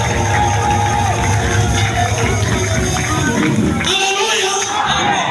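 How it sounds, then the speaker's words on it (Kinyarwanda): A church congregation applauds and ululates in praise of God, a loud, steady wall of crowd noise with cheers and voices that eases near the end. "Mubere Imana amashyi y'impundu."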